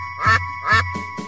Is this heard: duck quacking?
yes